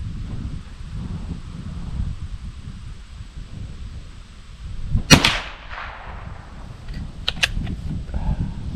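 Keystone Sporting Arms Mini Mosin M38 carbine fires one sharp, loud shot outdoors at a target about 25 yards away, followed by a few fainter metallic clicks over steady wind noise.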